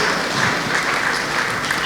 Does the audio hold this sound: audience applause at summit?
yes